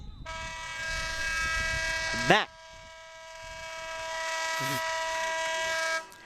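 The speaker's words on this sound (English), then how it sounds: "that very loud horn means the end of the third quarter" A very loud, sustained horn signals the end of the third quarter at a boys' lacrosse game, blaring for several seconds with a sharp burst near the middle, over crowd noise and a voice.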